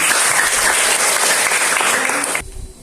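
Classroom applause from junior high school students during a social studies lesson: loud, dense clapping from many hands that fills the room, then stops abruptly near the end.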